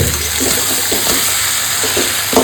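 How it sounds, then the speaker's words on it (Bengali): Water is poured into a pot of spiced, sautéed gobindobhog rice for cooking, a loud, continuous splashing gush close by with no talking. "এবার আমি জল দেবো"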